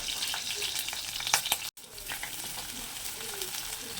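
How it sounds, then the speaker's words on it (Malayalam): Ginger and green chilli sautéing in coconut oil in a pan, a steady close sizzle with stirring scrapes that cuts out for a brief moment, then the frying hiss resumes. "കുറച്ച് വെളിച്ചെണ്ണ ഒഴിച്ചിട്ട് ഇഞ്ചിയും പച്ചമുളകും കൂടി വാട്ടിയെടുക്കണം"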